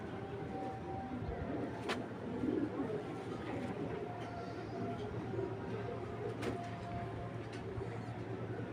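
A male Belgian bloodline racing pigeon coos softly and steadily close by, with faint background noise and a couple of brief clicks.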